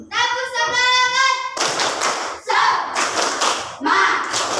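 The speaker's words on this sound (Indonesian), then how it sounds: "Tepuk semangat." An Indonesian classroom performs a tepuk semangat clapping chant: children's voices chant in unison between short bursts of sharp, rhythmic group claps close by.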